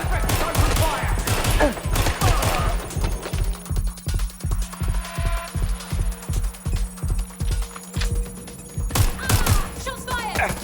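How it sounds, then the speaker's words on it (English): Gunfire in the Watch Dogs Legion video game: dense bursts of rapid shots up front, then a steady rhythmic run of repeated thumping shots, with more heavy firing returning at the end, voices shouting over parts of it. "Shots fired!"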